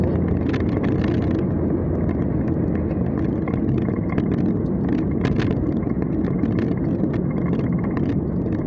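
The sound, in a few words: NPM bus driving on Merak–Jakarta toll road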